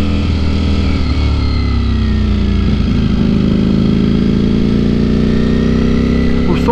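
A Ducati Streetfighter V4 S with a full Akrapovic titanium exhaust on the move. The engine gives a loud, steady roar that climbs gradually in pitch as it pulls.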